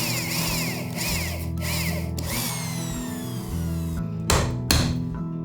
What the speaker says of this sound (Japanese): 今これ 30mm の切りで開けてますけども、この材料の3分の2ぐらいの深さを開けていきます。